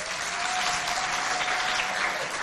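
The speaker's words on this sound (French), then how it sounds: "On l'applaudit, s'il vous plaît." Applause from a school audience at a competition event, a dense steady clapping that fills the whole stretch with no voices over it.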